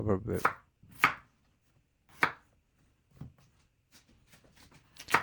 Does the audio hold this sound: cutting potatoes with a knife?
yes